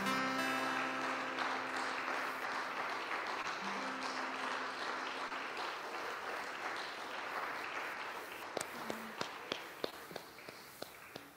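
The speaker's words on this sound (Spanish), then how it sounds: "Dale un aplauso a tu Dios" A church congregation claps together after a sermon, a dense, sustained wash of applause that gradually thins out, leaving a few scattered, separate claps at the end.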